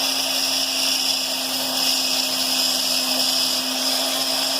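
A rotary tool bit grinds an agate stone with light pressure, giving a steady high-pitched whine with a constant tone that runs unbroken and close throughout, with no talking.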